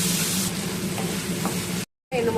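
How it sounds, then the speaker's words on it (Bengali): Potatoes and chopped onion fry with salt and turmeric in a pan, a dense close sizzle with stirring scrapes, briefly cutting out before resuming. "আলুর সঙ্গে সঙ্গে পেঁয়াজের ভাজা হতে থাকবে।"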